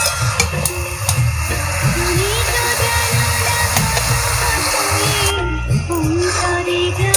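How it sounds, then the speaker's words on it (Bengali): Water lily (shapla) stems fried and stirred in a pan for a hilsa recipe, giving a steady, close sizzle with scraping stirring strokes throughout and faint background noise. "দেখো বন্ধুরা দেখো মা নেড়েচেড়ে কিভাবে ভেজে নিচ্ছে শাপলাটাকে।"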